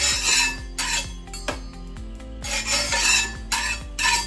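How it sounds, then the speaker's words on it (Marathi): Wheat flour batter with water is whisked briskly in a bowl, a loud close scraping and swishing in rhythmic bursts with brief pauses between strokes, alone with no talk. "आता इथे पीठ छान फेटून घ्यायचं आहे"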